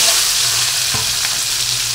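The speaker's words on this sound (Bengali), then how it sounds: "দেখুন ডিমগুলো আমি দিয়ে দিলাম কড়াইতে, আস্তে আস্তে করে ভেজে নেব" Eggs sizzle in hot oil in a wok, a dense, steady crackling hiss with a faint scrape of a utensil partway through.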